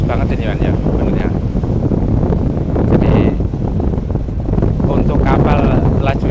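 Strong wind gusts roar across the microphone on a small boat crossing deep Indonesian sea, a loud continuous buffeting rush under a man's brief speech.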